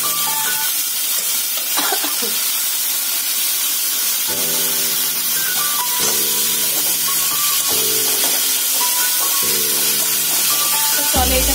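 Boiled banana flower cooking with prawns in a pan, a steady broad sizzle and steam hiss running throughout with occasional stirring scrapes, under soft background music.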